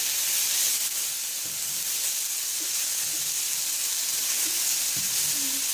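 Chicken chilli mixture seasoned with salt and pepper sizzles steadily in a pan, a dense, even hiss that runs unbroken and fairly close, with a few soft scrapes and pops.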